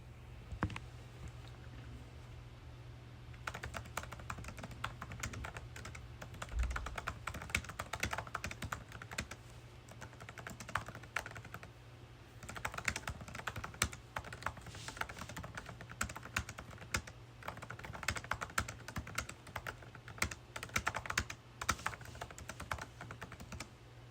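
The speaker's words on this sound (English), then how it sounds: "So I'm basically going to type another prompt here." Keys clatter on a computer keyboard as a prompt is typed, in bursts of quick clicks with short pauses over a steady low hum, at moderate level and without talk.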